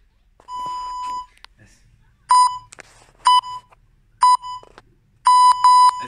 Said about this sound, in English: I'll get the timer ready.